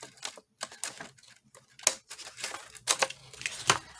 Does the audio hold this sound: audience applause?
no